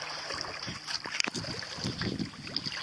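Small sailboat gliding through the Everglades in a light breeze, with steady wind and soft water wash against the hull, plus faint creaks and light knocks from the boat, all continuous and fairly quiet.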